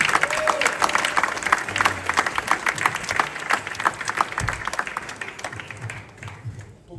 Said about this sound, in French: Il mérite les applaudissements.